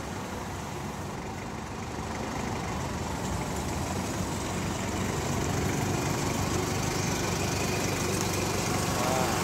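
A Toyota forklift with a 1DZ diesel engine runs steadily nearby, a dense, rough idling rumble with a constant rattling texture that grows slightly louder toward the end.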